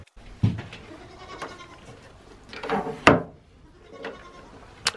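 Goats bleating while eating chaff hay on a small farm, several short bleats scattered across a few seconds, close by, with chewing and wooden knocks between them.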